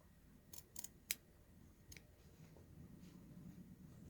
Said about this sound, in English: What I want you to do is now snip into the corner without cutting your stitches.